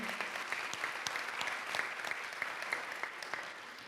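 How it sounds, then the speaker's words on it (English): An audience at a community youth event in San Diego claps steadily. The applause is soft and sounds distant, with individual claps audible within the even patter. "Let's give a round of applause to the students' voices we heard."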